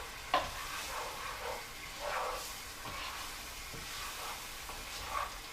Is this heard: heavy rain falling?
no